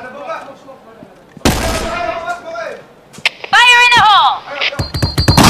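Gunfire from a competitive tactical shooter match at a tournament semifinal, with sharp shot bursts and a clattering volley between stretches of excited commentator talk.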